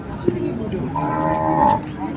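Budget-grade cattle at the Glenmore livestock market in Banyuwangi, East Java, low a long, close, drawn-out moo that swells and fades, over a busy market background murmur.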